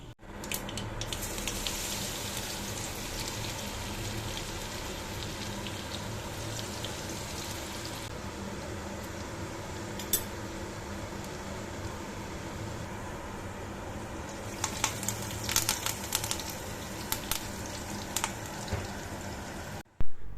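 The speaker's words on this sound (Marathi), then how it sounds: "जिरा मोहरी आणि लसूण याची छान अशी मी फोडणी देऊन घेतली" Cumin, mustard seeds and garlic tempered in hot oil in a home kitchen, giving a steady soft sizzle with scattered pops and crackles that grow busier toward the end, fairly quiet and with no one talking.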